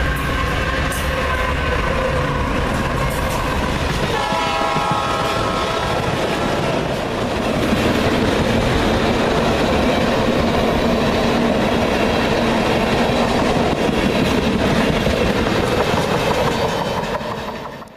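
CSX freight train with Canadian locomotives hauling ethanol northbound on the Chattanooga Subdivision, a steady loud rumble of rolling cars and engine drone with clickety-clack throughout, a horn-like tonal burst briefly early on, no voices.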